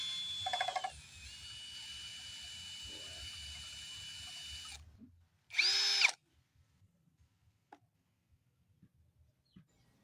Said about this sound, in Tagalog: Kung meron kayong cordless drill, ganyan ang gawin niyo.